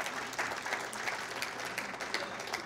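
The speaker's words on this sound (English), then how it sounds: "give yourselves a round of applause" An education event audience at TEACH 2018 gives itself a round of applause, producing a dense, even wash of clapping from a large crowd throughout.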